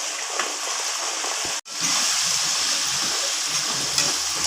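Shallots sizzle in hot oil in a pan for kara kuzhambu, a steady broad hiss that runs almost unbroken apart from one brief drop, close and moderately loud.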